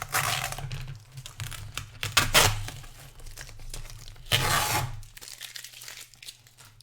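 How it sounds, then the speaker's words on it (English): Masking tape is peeled off the edges of a painting board in close, crackly tearing strips, with louder rips near the middle and end of the stretch and quieter rustling between, with no talk. "I am going to peel the tape off."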